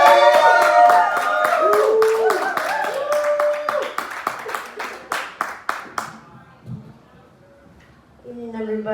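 Audience claps for a comedian at a Toledo comedy show, a dense burst of applause that thins into scattered separate claps, then a voice begins speaking as it fades.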